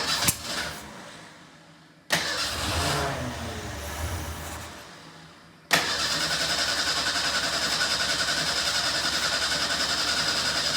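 A 1988 Ford Ranger with a replacement motor cranks in short bursts and then catches, settling into a loud, steady, close running engine with a fast even pulse and no talking.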